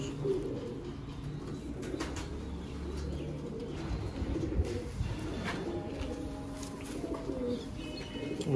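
Young flying-breed pigeons call and coo steadily from close by, with soft overlapping chirps throughout and a low background murmur.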